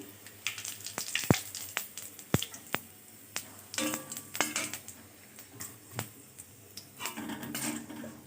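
Bay leaf, dried chilli and cumin dropped into hot oil for tempering, giving a soft continuous sizzle broken by sharp crackles and pops, with occasional clinks from a utensil against the pan.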